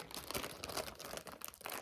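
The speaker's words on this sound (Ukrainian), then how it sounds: "Вони запаковані так, що цей пакетик ви маєте розірвати." A plastic packet holding a pedicure set is torn open by hand, giving dense crinkling and ripping plastic noise up close. It carries on steadily for about two seconds, with no speech.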